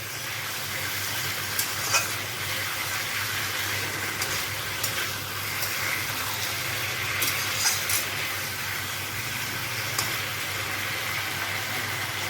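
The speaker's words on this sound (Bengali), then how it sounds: "খুব সুন্দর করে এই মশলার সঙ্গে ফোড়নের সঙ্গে মাছের মাথাটাকে ভাজা ভাজা করে নেব" A rohu fish head fries with spices and tempering in a pan, making a quiet, steady hiss with occasional faint clicks of stirring and no talk.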